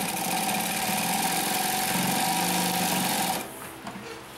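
Consew P1206RB industrial sewing machine stitching through thick, many-layered material with seams, a loud steady rapid mechanical whir and chatter that stops abruptly near the end, leaving quiet motor hum.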